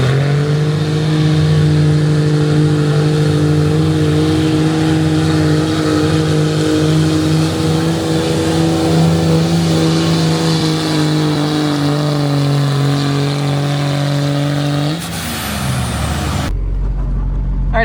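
A pickup truck engine idling loud and close at a county fair truck pull, a steady low drone with slight surges for most of the stretch, then dropping away near the end.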